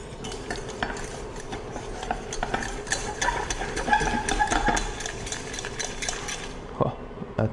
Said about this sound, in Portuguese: Então eu vou botar a farinha e vou mexer.